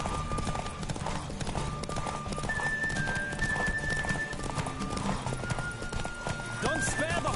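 Hoofbeats of a horse racing at speed in the video game The Witcher 3 clatter steadily under busy game music and voices, with a whinny near the end.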